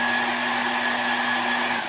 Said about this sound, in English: Everybody's got a hairdryer, the low setting, the little cold button.